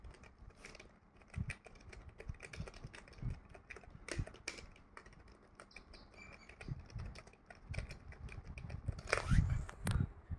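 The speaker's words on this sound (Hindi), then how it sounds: "ये TVS का एक कीबोर्ड है तो शायद ये सेमी मैकेनिकल है क्योंकि मेम्ब्रेन तो ये है नहीं" Keys clatter on a TVS semi-mechanical computer keyboard in quick, irregular bursts of close clicks, with a voice speaking in the background.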